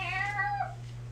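A house cat gives a single short, clear meow, close and fairly loud, over a steady low hum with no talking.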